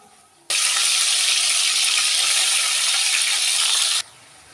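Bay leaves and cardamom pods sizzle steadily in hot oil, a bright continuous frying hiss that starts abruptly, holds for about three and a half seconds, then cuts off, close and loud with no talk over it.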